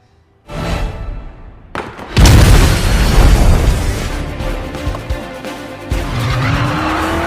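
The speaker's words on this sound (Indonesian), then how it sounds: "Keributan di jalan pun terjadi, dibantu oleh Bobby yang mampu melihat visual target. Mereka pun melaju zigzag." Cars skidding through a street chase in an action film, a loud burst of tyre screech and engine roar after a short quiet start, with a heavy boom-like impact and continued squealing and revving.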